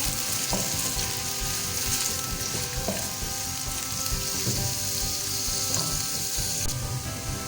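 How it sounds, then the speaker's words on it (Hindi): Onions fry in about four spoons of oil in a kadhai over a lit stove, giving a steady, dense sizzle with occasional stirring scrapes throughout. "अब हम इसमें प्याज डाल देंगे। चूल्हा मैंने जला दिया है। प्याज को आप फ्राई कर लें।"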